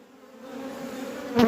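Honeybees buzz agitatedly during a hive inspection over the brood comb, a close, steady hum rising slightly in loudness and ending in a brief louder burst.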